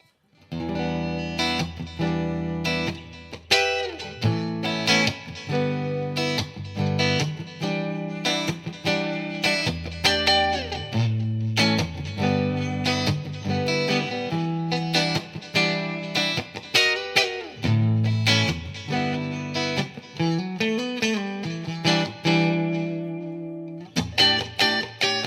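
An Ibanez electric guitar on its neck position pickup plays a funky rhythmic groove, loud and up close, with a warm, slightly driven tone of chopped chords and short riffs running continuously without speech.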